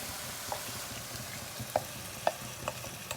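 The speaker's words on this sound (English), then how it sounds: "What I'm going to do next is I'm going to add in the stock" Stock goes into a sizzling pan of vegan mushroom stroganoff, a soft continuous frying hiss with a few light clicks and spoon taps against the pan.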